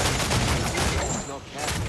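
Ship cannons fire in a naval battle in Assassin's Creed 4: Black Flag, giving dense, rumbling volleys of booms mixed with battle noise, while voices shout over the gunfire.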